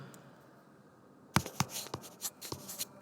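Quick writing strokes on a board as amino acid abbreviations are written, a short run of close scratchy taps and scrapes after a quiet opening, with no talking.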